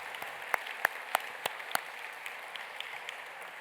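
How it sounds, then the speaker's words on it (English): Gala audience applauding, scattered claps that start strong and fade quickly into a sparse patter. "that deserves a round of applause"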